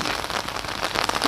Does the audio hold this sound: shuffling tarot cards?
no